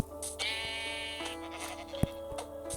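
A single drawn-out sheep bleat in a video game rises over a background of game music and a few soft clicks.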